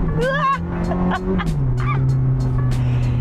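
A Ferrari F430 engine revs hard while being driven, loud and sustained with a droning pitch that rises and falls through gear changes, and a high whine cutting in briefly, while people talk and exclaim inside the car.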